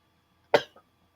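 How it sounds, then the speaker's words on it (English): A person coughs close by: one sharp, heavy cough, a smaller follow-up hack, then another forceful cough at the end, with silence between. "are you just going to make me stand here and cough?"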